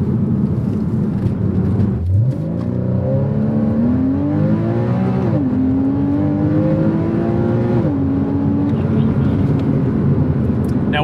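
Porsche 981 Cayman S, a roughly 325-horsepower sports car, accelerating with a steady engine tone that rises through the revs, shifts and climbs again, sustained and loud from the cabin with constant road and wind noise beneath.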